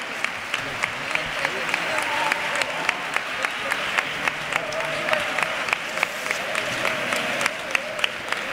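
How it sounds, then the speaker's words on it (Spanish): A large audience at the Ronda Carnival 2024 applauds steadily throughout, with sharp individual claps standing out above the sustained wash of clapping. "Fuerte el aplauso de nuevo para ellos."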